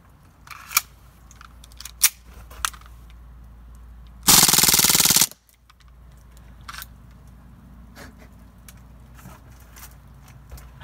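A full-auto CO2 airsoft gun fires one dense, loud burst of about a second in cold weather. A few sharp single clicks and snaps come before the burst and after it, separated by quiet gaps, and no one talks.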